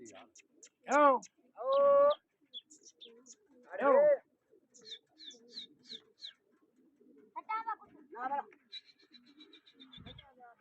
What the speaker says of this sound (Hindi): कबूतर तो माशाल्लाह पहले उड़ रहे हैं ना